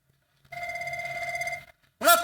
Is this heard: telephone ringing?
yes